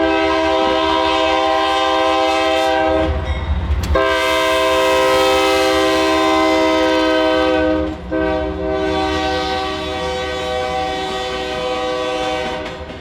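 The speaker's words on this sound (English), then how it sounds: "trains taking the 10-degree turn through the mainline's largest rock cut" An LS&I iron ore train on Michigan's iron ore mainline takes a 10-degree curve through a large rock cut, its horn blaring in long, loud, close blasts with two brief breaks, over a steady rumble of the passing cars.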